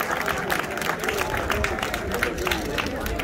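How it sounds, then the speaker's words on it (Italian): A crowd at an amateur cycling race's awards ceremony in Lonate Ceppino applauds steadily, with dense clapping and a murmur of voices throughout. "Un applauso."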